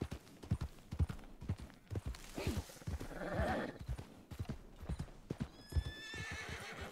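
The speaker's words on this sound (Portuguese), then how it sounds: "Para já anda ali um cavalo delegado a ser conduzido por alguém" A horse walking in Red Dead RP, hooves clip-clopping in a steady rhythm up close, with a whinny and soft snorts in between.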